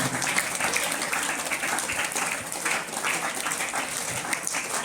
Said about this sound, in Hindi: जोरदार तालियों से स्वागत मुख्य अतिथि एवं विशिष्ट अतिथि महोदय का।